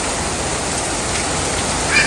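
Heavy rain pours in through an open window or door of a house, a steady, dense hiss of water filling the whole stretch without a break, close and loud.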